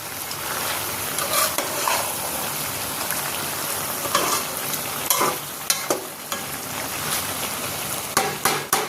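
Snakehead fish and bottle gourd with green chilies sizzle steadily in a hot pan, with scattered clinks and scrapes of stirring rising above the continuous frying crackle.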